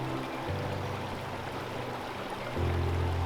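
A mountain creek in the Pecos Wilderness flows past a trail crossing with a steady, close rushing and babbling that swells slightly near the end, with no speech.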